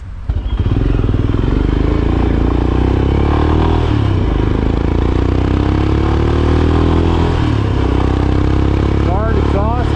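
A Royal Enfield Himalayan dirt bike engine runs loud and close, with a continuous throaty drone that rises and falls as it revs, plus clattering and wind buffeting, and a brief squeaky sound near the end.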